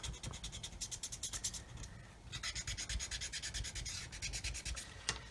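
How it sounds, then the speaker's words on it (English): Sanding away seam lines on plastic parts of an Airfix 1/32 scale Monty's Humber model: quick, rhythmic scratchy rubbing strokes in bursts, close and fairly quiet, with no talk. "So just sand that away like that."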